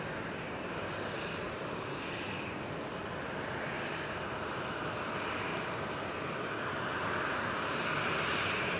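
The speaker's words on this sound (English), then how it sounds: "Air China Cargo. With a 777." An Air China Cargo Boeing 777 at Amsterdam Schiphol fills the air with a steady, loud roar of jet engines that holds throughout and swells slightly near the end.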